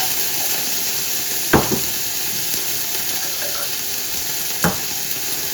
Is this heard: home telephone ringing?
no